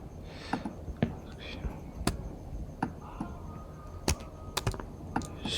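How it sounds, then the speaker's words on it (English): Typing on a computer keyboard, including presses of the shift key, during Photoshop editing. Scattered, irregular clicks and taps sound close and fairly quiet over faint background hiss. "I just hold on shift on my keyboard to add it"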